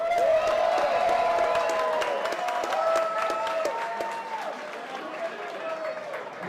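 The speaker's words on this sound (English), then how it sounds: "How about a round of applause for these warriors?" A crowd at a Pure FC mixed martial arts event applauds and cheers the fighters after the bout, sustained clapping and whoops in a large venue, with an announcer's amplified voice over it.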